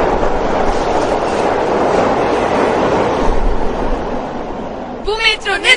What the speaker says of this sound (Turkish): Bu metro nereye gider?